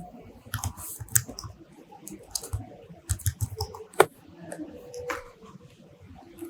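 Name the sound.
typing text on a computer keyboard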